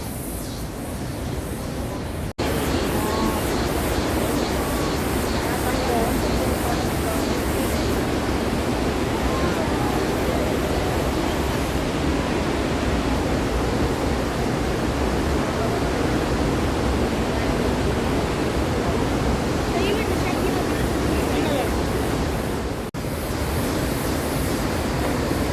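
The Iguaçu Falls roar as a loud, continuous broadband rush of heavy falling water, steady and close for the whole stretch with no talk over it.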